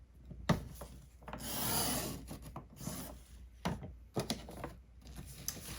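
Cutting 6x6 paper to 3.5 inches: soft, close scraping and rubbing with a longer slicing swipe and a few light taps, faint and without talking.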